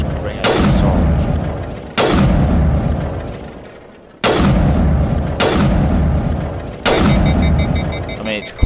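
Assault rifle fire in Mass Effect Legendary Edition, heard as five loud separate bursts, each a sharp boom with a long decaying tail, spaced a second or two apart and close to the listener.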